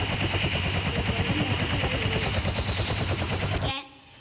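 Rapid, sustained automatic gunfire from a Roblox obby game, dense bursts of shots over about three and a half seconds before cutting off abruptly.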